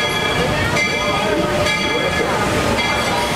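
Walt Disney World Railroad train rolling and slowing to a stop, with a steady rumble of wheels on rails and faint squeaks, heard from aboard the train.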